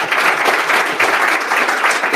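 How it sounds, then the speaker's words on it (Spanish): Loud, dense audience applause at a Spanish-language tech talk on infrastructure as code, marking a speaker's first talk, sustained clapping with a brief dip midway. "Un aplauso para Colomine"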